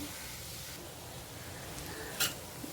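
Fenugreek greens (methi bhaji) stirred in a wide pan over a medium flame, a soft low sizzle with faint scraping and one brief sharp utensil clink near the end.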